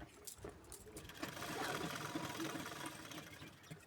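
A sewing machine stitches small tucks into blouse fabric, giving a soft, continuous mechanical whirr with a light rhythmic patter. The sound is fairly faint and close, with a little background noise around it.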